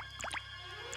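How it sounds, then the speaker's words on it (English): Several quick, hollow water drips plink in succession inside a cave in a cartoon, over a soft steady background hum, then one more drip near the end. "The stone teeth are dripping!"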